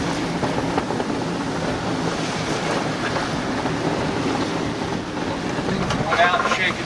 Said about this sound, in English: we're getting a lot of rolly waves